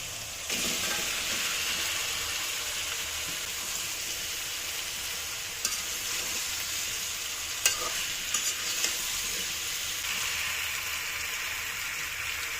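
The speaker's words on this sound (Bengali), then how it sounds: "এখন এই যে চালটাগুলো দিয়ে দিচ্ছি" Rice added to spices frying in a pan, a loud continuous hiss and sizzle with a few scraping stirs and light clicks partway through.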